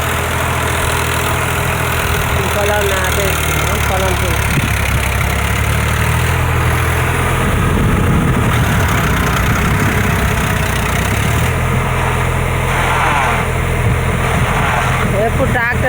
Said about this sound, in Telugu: మా ఆయన అయితే ట్రాక్టర్ తిరుగుతుంది చూడండి